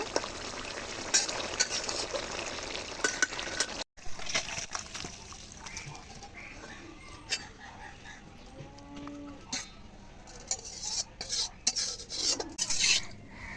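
Koi fish curry with chopped coriander leaves cooks in a pan, with a busy frying crackle and occasional clinks of a spoon against the pan; the sizzle drops out briefly, then resumes.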